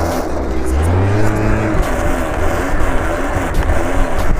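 A small scooter engine revs up during a wheelie and holds a rising whine, then settles into an uneven rumble with short bursts of throttle.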